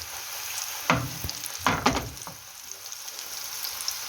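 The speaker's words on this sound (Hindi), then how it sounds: "आपने इसको डीप फ्राई करना है।" Marinated Zinger burger chicken dropped into hot oil for deep frying, two loud bursts of crackling sizzle settling into a quieter steady fry.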